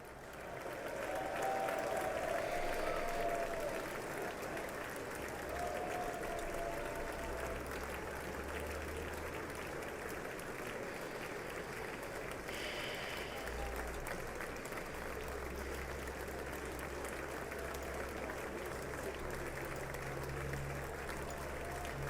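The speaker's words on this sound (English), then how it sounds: "to just be standing in front of people and have them all clap" Sustained applause from a large audience at the 2019 State of the Union address, a dense, steady wash of clapping that holds at even loudness throughout, with a brief swell partway through and no speech over it.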